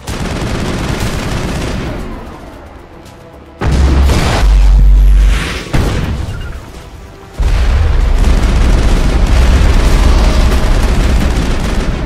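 A big gun in Mass Effect firing and exploding, with loud booming blasts and bursts of gunfire rising in heavy waves, close and dominant, with no voices.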